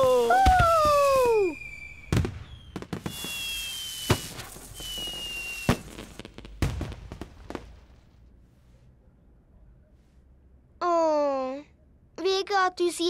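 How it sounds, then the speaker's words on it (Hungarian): Cartoon fireworks from the children's show Bing whistle upward and pop in sharp, bright bangs, several in a row, then fall quiet before more rising whistles, with a voice speaking in between. "Vége a tűzijátéknak."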